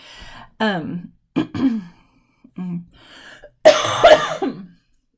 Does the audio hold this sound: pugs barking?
no